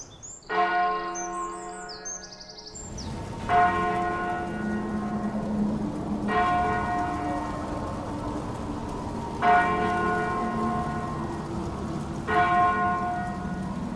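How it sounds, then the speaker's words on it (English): Church bells ring out in slow, evenly spaced strokes about every three seconds, each resonant toll lingering and fading, with birds chirping faintly in the background. "church bells were rung in the darkness to comfort the souls in their suffering"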